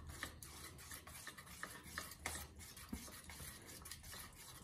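Gram flour besan batter being stirred and whisked in a bowl, a continuous close rasping scrape with rhythmic strokes against the sides, no voices.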